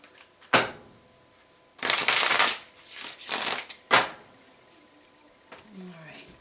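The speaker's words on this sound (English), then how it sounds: "One more shuffle, and we'll get the clarifiers." Tarot cards are riffled and shuffled close by in a few short, crisp bursts of flapping and sliding, with quiet pauses between them and a voice murmuring briefly near the end.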